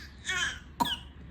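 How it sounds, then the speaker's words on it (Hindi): A baby girl in a high chair at home gives two soft coughs, a brief raspy rattle followed by a sharper short cough, close and quiet. "पापा की तरह खांसी हो गई।"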